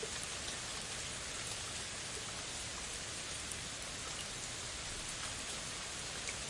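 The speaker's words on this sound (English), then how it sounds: "The soothing rainfall allows your mind and body to rest." Steady rain falls in an even, hissing wash of drops, constant and unbroken with no other sounds.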